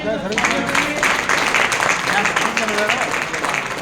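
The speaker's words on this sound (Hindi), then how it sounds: "तालियां बजा" An audience claps steadily at a marketing presentation, a continuous moderately loud patter of many hands, with voices mixed in.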